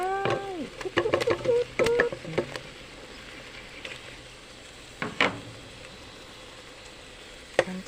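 Pork belly sizzles in a pot while being cooked down for a Thai curry with cassia leaves, with bursts of crackling and popping fat along with clinking stirring sounds, then a quieter steady simmer.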